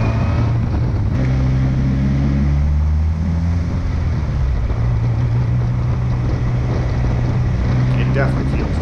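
DF Goblin kit car on a test drive, its engine droning steadily with rising and falling tones as it shifts through gears, fairly close and continuous with road and wind noise.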